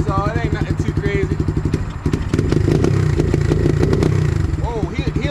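A brand new SSR 150 dirt bike, just fired on its electric start, runs with a rapid buzzing engine pulse that stumbles slightly and then steadies into a louder, fuller idle close by.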